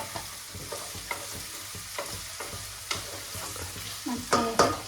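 Chicken sukka frying in a pan, with a continuous sizzle broken by repeated scraping stirs of a spoon that grow louder and sharper toward the end.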